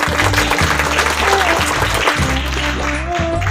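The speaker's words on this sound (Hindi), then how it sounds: "बजाओ तालियां सबकी" Guests clap throughout a Hindu wedding ceremony, a steady dense applause layered over pulsing low musical tones in the background.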